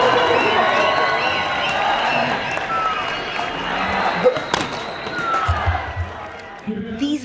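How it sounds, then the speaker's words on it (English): Large crowds cheering troops at the border-closing ceremony in Punjab: a steady, roaring wash of cheers and shouts, with a voice narrating over it. "vast crowds gather on both sides to cheer the troops in this eccentric ceremony"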